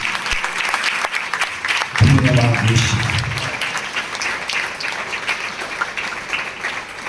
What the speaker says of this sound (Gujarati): જોરદાર તાળી પાડીને પરમેશ્વર મહિમા આપીએ.